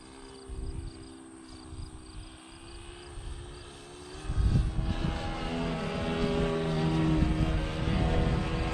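A Sig Kadet Senior RC model airplane flies loops and rolls, its propeller engine droning at a distance and then swelling louder as it comes closer, with the pitch shifting through the manoeuvres.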